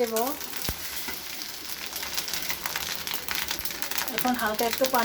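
A frying egg hisses and sizzles loudly in a pan after a splash of water is added, a steady close crackle with a person talking at the start and end.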